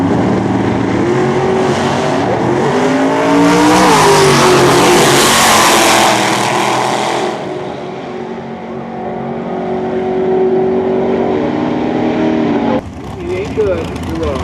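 Drag racing roadsters launch gas against gas at a March Meet strip in Phoenix, their engines roaring loud and close, swelling to a peak and then fading down the track, with an announcer talking over the noise.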